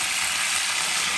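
Meat for plov sizzles in a hot pan with a dense, steady crackling hiss, close and loud, with no voices over it.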